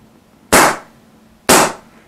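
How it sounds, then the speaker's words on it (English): Paintball marker fitted with a TECHT L7 bolt firing two sharp, close shots about a second apart, each a crisp pop with a short airy tail, over a quiet background. "the next time you pull the trigger, it's going to shoot"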